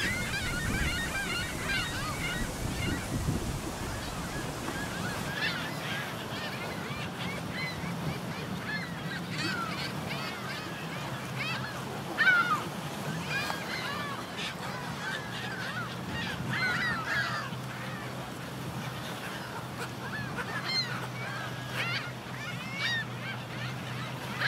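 Many geese and other waterfowl honk and call over a steady outdoor wash at Holes Bay nature park, a dense chorus of mid-distance cackling that runs unbroken with no talk.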